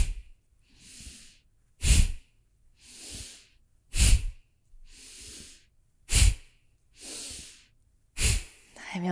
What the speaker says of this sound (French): Et on essaye de toujours garder cette respiration active.